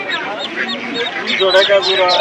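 Chinese ducklings at a busy poultry market give a close, continuous chorus of high peeping calls and quacks, with people talking nearby.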